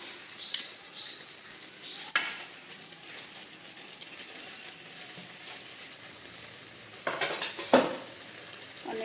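A spoon stirs grated coconut into thickened sugar syrup in a pan for a village-style coconut sweet, giving faint soft scraping and sizzling with a couple of sharper metallic scrapes against the pan.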